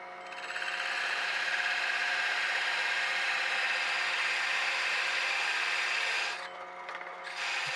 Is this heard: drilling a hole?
yes